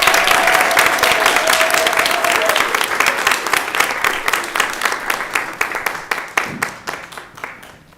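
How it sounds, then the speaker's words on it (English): An audience at an English thesis presentation gives a round of applause, steady dense clapping that thins out and fades toward the end, fairly close and with no talk over it. "let's give one more round of applause"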